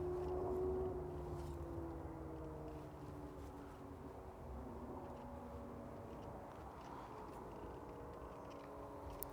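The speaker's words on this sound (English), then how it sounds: "we got traffic in the distance and an aeroplane flying over" A low, faint aeroplane drone passes overhead above a cemetery at night, with distant road traffic rumbling underneath as one steady, muffled wash of sound.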